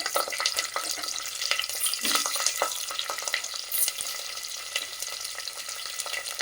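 Curry leaves and onion frying in a pan, a continuous crackling sizzle with scattered pops and scraping, moderately loud and steady.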